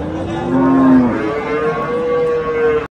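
A cow at the Khojaobod livestock market in Andijan moos loudly and close by in one long, drawn-out low call that wavers in pitch before cutting off abruptly.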